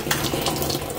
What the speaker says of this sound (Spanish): Ahí está, entrando el agua caliente.